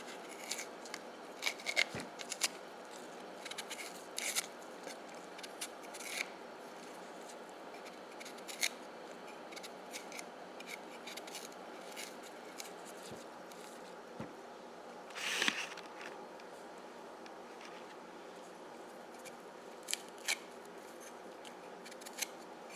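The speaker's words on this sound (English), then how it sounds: "When it's fresh, you just peel it like this." Skin is peeled by hand off a jicama root, a string of quiet close tearing and scraping rips and rubs spread irregularly over a near-silent background, no speech.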